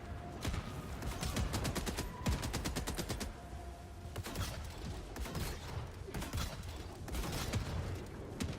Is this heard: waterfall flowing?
no